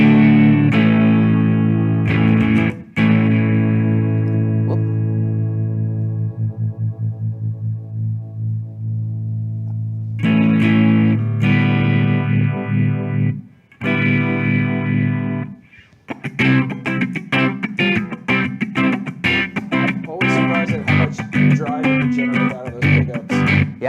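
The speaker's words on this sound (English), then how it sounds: "Now let's check out the liquid phaser." Electric guitar run through a liquid phaser pedal rings out in long sustained chords that swirl and fade, then gives way to bursts of choppy, rhythmic strumming, loud and close.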